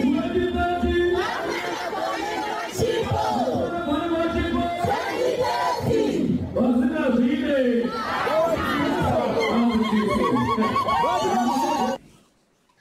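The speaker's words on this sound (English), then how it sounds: "let me show you a crowd of hired young people who were made to chant that slogan yesterday" A crowd of hired young people in Zimbabwe chants a political slogan aimed at General Chiwenga, many voices shouting together in rhythmic bursts, loud and close, before cutting off abruptly.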